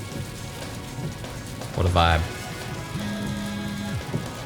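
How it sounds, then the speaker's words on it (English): Rain falls on a car with the windshield wipers running, a steady patter through the whole stretch, with a short remark from someone inside and a brief tonal hum. "Just in the car, it's raining, got the windshield wipers on."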